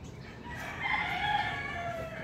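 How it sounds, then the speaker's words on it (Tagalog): Chickens, including red and light-feathered birds and a Texas rooster, clucking under a fruit tree while a rooster crows steadily in the middle distance, continuous and fairly clear, with no talk. "may mga manok pa dito"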